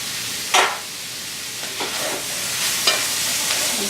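Zucchini and sausage frying in a pan for a shrimp and sausage jambalaya: a quiet, steady sizzle broken by a few sharp scrapes and clinks of a utensil stirring.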